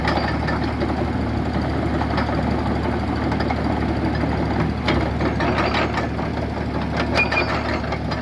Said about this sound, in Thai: การทำงานของปั๊มนะครับ